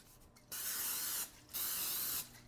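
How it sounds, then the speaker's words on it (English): Two bursts of cooking spray hiss close by into oven-safe glass bowls, each lasting under a second, separated by a short pause. "I'll take some oven safe glass bowls and spray them with cooking spray."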